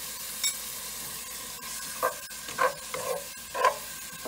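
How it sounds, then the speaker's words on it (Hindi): Garlic ginger paste being added to hot oil and stirred, a soft continuous sizzle with several short bursts of crackle and utensil scrapes, close and moderate in level, no talking. "और इसके बाद लहसुन अदरक का पेस्ट डालेंगे।"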